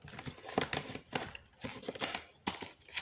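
Tarot cards are shuffled in quick bursts of crisp riffling and snapping, close by, with short pauses between the bursts.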